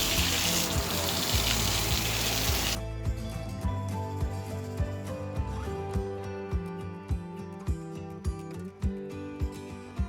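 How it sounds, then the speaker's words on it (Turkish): Water running steadily outdoors while flowers are watered at a vineyard, a loud broadband gush at first that then settles into a continuous flow with light clatter, close to the listener. "Çiçeklerim suluyor. Çiçek sulama saati."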